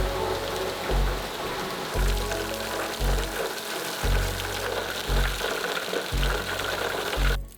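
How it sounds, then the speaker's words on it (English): Heavy downpour drumming on the concrete roof of a home in Mexico, a dense steady wash of rain with low rumbling thumps pulsing about once a second beneath it. "being on a roof when it starts absolutely downpouring is a wild feeling"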